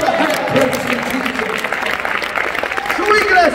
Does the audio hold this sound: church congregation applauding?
yes